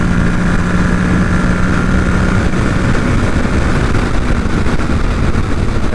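A 2023 Kawasaki Ninja 650 motorcycle roars steadily at speed on the road, a loud continuous engine drone heavily mixed with wind rush from the rider's perspective, with no voices.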